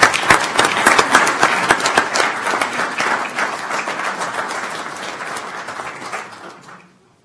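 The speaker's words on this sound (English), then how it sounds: "Round of applause, please." Applause at an El Paso County Commissioners Court meeting: a room of people clapping loudly at first, then thinning and fading out over several seconds.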